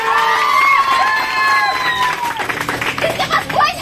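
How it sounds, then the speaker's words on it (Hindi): A crowd cheers and claps loudly, with whoops and shouting voices rising over a burst of applause. "एक बार जोरदार तालियां"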